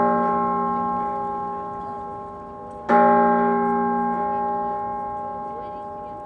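A large bell in Philadelphia rings with a long sustained tone that decays slowly, then is struck again about halfway through, the fresh strike swelling louder and ringing out, close and alone.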